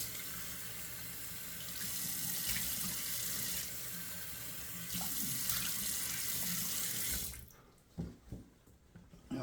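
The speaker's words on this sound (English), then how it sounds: "It's running cold out of the tap" Cold water runs steadily from a tap into a sink for several seconds, then shuts off, leaving a few faint drips and splashes.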